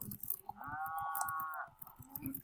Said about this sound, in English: let's chase this cow back to the ranch